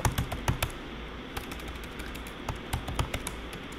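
Quick irregular keystrokes on a computer keyboard as Python code is typed, a close, steady patter of light clicks with small pauses between bursts and no talking.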